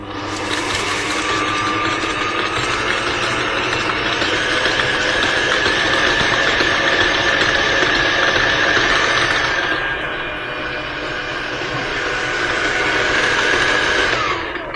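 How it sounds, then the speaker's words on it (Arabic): An electric mixer creaming sugar with butter, a loud, steady whirring motor with a high droning whine, easing slightly in pitch and load partway through, running alone for the full length. "وهنخلط السكر مع الزبدة لغاية تبقى كوام كريمي"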